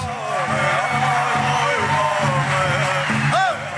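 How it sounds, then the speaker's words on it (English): An audience at a Living Traditions hoop dancers' main-stage performance cheers loudly with whoops and yells over a continuous wash of applause throughout. "Let's give another huge round of applause."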